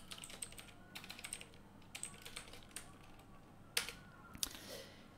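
Python code being typed on a computer keyboard: irregular bursts of light key clicks, quiet and close, with a couple of sharper keystrokes standing out, and no speech.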